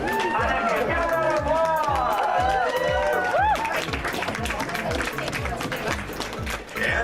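Applause for a cosplay contest winner at a comic con awards ceremony, with dense, steady clapping from a large crowd throughout, along with a rhythmic thumping and a whistling tone that rises and falls, and a voice speaking over it.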